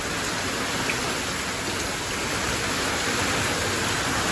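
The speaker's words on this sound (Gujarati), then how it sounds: "તો ગાઈસ તમે જો રાતનો વરસાદ ચાલુ હોય ને તેને હજુ વરસાદ લગી ચાલુ જ છે" Heavy rain pours down in a dense, unbroken hiss, steady and loud for the whole stretch, with no voices.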